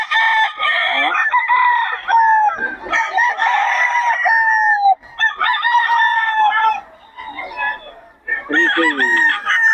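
Several roosters in Bocaue, Philippines crow loudly one after another, overlapping cock-a-doodle-doos close by, with brief clucking between calls.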